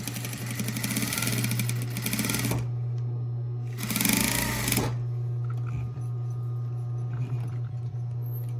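A sewing machine runs in two short bursts, back-stitching a homemade fabric mask with ties and a filter pocket, with a steady low hum continuing between the runs.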